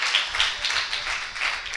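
A church congregation on Palm Sunday claps loudly together, a dense continuous wash of applause with slight rhythmic pulses, close and filling the room with no talk over it.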